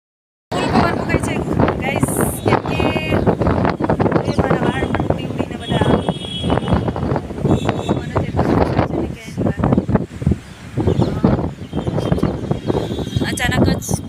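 Heavy wind buffets and roars across the microphone outdoors, steady and loud throughout, with people talking beneath the gusts.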